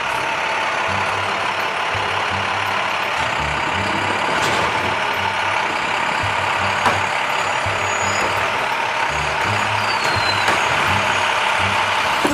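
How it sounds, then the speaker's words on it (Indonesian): A large garbage truck engine rumbles and idles nearby, with a rhythmic pulsing throb, faint beeps and an occasional hiss of air. "Nah, yang ini mobil truk sampah."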